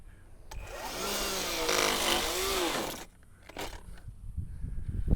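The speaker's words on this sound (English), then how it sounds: "I'm gonna switch the weed whacker to the snail mode." Milwaukee battery weed whacker running in low-speed mode, a whining motor that rises and falls for about three seconds, then cuts off, followed by faint rustling and a brief restart.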